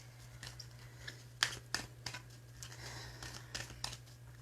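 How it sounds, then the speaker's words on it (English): Affirmation cards being shuffled, a run of soft papery riffles and crinkles with a few sharper flicks, close and quiet over a steady low hum. "So right now I'm just shuffling up my affirmation cards to see what the affirmation is"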